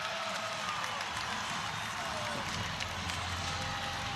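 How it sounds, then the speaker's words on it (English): An arena crowd at a USC vs UCLA college volleyball match roars with cheers and clapping after a reversed call, a loud, sustained wall of noise with a commentator talking over it. "The crowd erupts."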